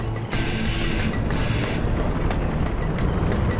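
Jet engine roar of a King Raptor aircraft in Command & Conquer Generals Zero Hour, a loud steady broadband rush held throughout with a few sharp clicks and whooshes over it, no talk.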